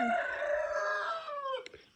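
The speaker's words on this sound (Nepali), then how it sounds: "मेरो भालेले बोल्नै दिँदैन हौ" A rooster crows once, loud and close, a long drawn-out call that tails off, with a faint cluck at the end.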